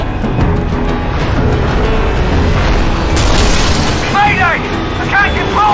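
Crashing Pelican dropship in Halo 3, loud sustained booming and explosive bursts over dense battle noise, with a sharp blast near the middle and chirping alarm-like tones toward the end.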